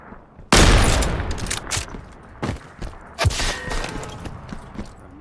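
Gunfire in Apex Legends inside a staircase: a loud opening burst followed by scattered sharp shots and thumps of varying distance over a few seconds, with no voices.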